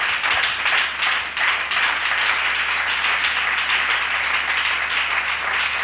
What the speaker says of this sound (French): Nous allons honorer la parole de Dieu par nos acclamations.